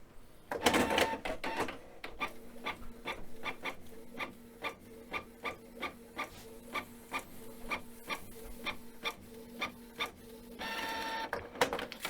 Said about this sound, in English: The printer will then go through some basic maintenance steps and then print out a status page.